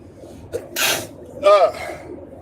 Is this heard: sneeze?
yes